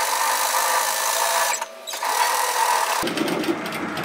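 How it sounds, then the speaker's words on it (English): A sewing machine runs steadily, stitching a line a quarter inch from the raw edge of sweater fabric, with a brief pause near the middle before the whirring resumes and a low hum joins near the end. "I'm just going to stitch a line of stitching"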